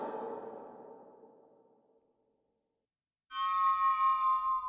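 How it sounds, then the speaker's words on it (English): A squeaky metal game sound effect processed with EQ and reverb: a decaying reverberant metallic sweep fades to silence, then a bright, high, sustained squeal with ringing tones cuts in. "Squeaky metal, there we go"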